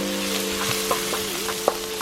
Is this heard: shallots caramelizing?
yes